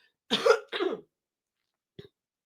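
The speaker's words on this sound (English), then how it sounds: "So as I cough, I'm gonna move away from the camera." Two close, harsh coughs in quick succession, followed after a pause by a faint short throat sound; no talking.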